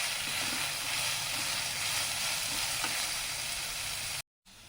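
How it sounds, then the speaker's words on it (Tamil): Chopped onions sizzle steadily in hot oil in a pan for a chicken dish, a dense, close frying hiss with faint stirring scrapes, cutting off abruptly near the end. "ஆனியனை நல்லா இந்த எண்ணெயிலே நல்லா வணக்கணும்"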